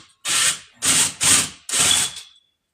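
A power tool drives at a stubborn screw in the top of a thrift store display case, heard as four loud close bursts of buzzing, ratcheting motor noise separated by brief silences.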